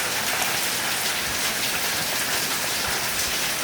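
Torrential rain hammers down during a gusty predawn storm with lightning, a thick, loud, continuous roar of drops with faint patter textures and no talking.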